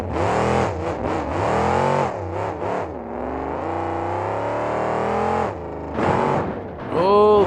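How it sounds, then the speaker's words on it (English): A monster truck engine at a KORR Monsters show in El Paso, Texas roars and revs hard in rising and falling surges, loud and close, with the throttle blipping between sustained bellows. "also the loudest truck here in KORR Monsters"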